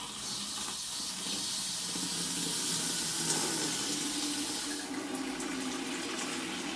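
Water rushes steadily as a resin water treatment cartridge for a heating system is bled into a bucket, a close, loud hiss throughout that briefly brightens near the end, with no talking.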